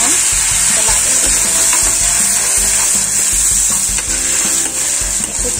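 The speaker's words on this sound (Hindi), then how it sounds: "जो हमने ये ग्रेवी रेडी करी है प्याज की, उसे हम डाल देंगे और उसको हम चला देंगे।" Onion gravy for a dhaba-style egg curry sizzles loudly in a pan while a spoon stirs it in quick, rhythmic scraping strokes, close up and continuous.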